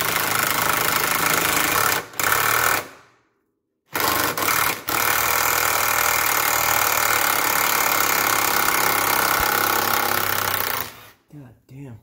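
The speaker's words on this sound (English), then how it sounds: "get your small one, impact driver, get a 10mm and remove the bolts here, here, and here" An impact driver with a 10mm socket removing bolts from a 2013 Nissan Altima rear lower control arm, loud sustained hammering rattle in long runs broken by brief pauses.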